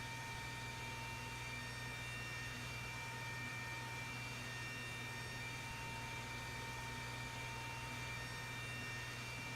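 Steady, loud roar of jet engines inside a flight simulator game, an airliner flight from Gatwick to Edinburgh, with constant broadband rumble and hum and no talk.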